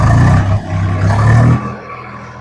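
A Swaraj 735 FE tractor engine revs near 1400 rpm with a loud, low diesel drone and a rattling throb, then the revs drop and the sound fades sharply toward the end.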